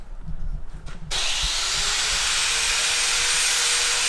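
A tack weld on a clamped metal bracket starts with an abrupt, loud, steady hiss and crackle after about a second of handling noise, then holds evenly to the end.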